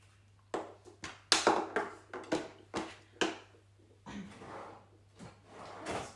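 Craft drawer holding clear stamping blocks sliding open and shut, with a series of close knocks, slides and rummaging clatters in an irregular rhythm, with no voices.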